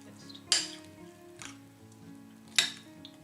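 Dried fruit soaked in coffee and rum is lightly stirred in a bowl, with soft wet squelches and two sharp utensil clinks against the dish over a faint steady hum.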